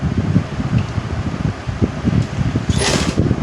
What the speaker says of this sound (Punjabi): ਪਹਿਲਾਂ ਥੋੜੀ ਸਿਲਾਈ ਸਟਾਰਟ ਕਰੋ